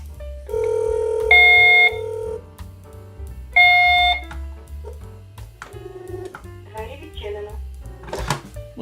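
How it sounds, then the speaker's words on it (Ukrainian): A Hikvision DS-KD8013-IME6 apartment intercom ringtone chirps in two repeated bursts of bright, harsh tones, with a low hum and some clatter between them. "Єдине, що не подобається звук дзвінка. Реально він досить противний"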